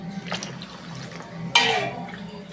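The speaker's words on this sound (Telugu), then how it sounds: "ఇప్పుడు ఇందులో 4 గ్లాసెస్ అన్నమాట వాటర్ వేసుకోవాలి" Water pours into a pot of roasted moong dal for pongal, a broad splashing gush starting partway through and running to the end over a low kitchen hum, no voices.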